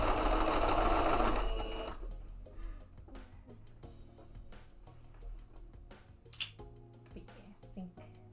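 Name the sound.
sewing machine stitching fabric for mock-up shorts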